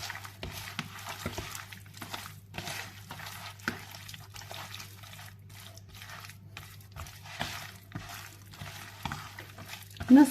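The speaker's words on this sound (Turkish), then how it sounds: "Baharatlarıyla önce karıştıracağız arkadaşlar." Chicken breast being worked by hand with spices and salt makes soft, wet squishing and rubbing sounds in an irregular rhythm, close and fairly quiet, over a low steady hum.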